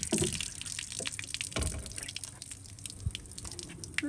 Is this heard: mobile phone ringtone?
no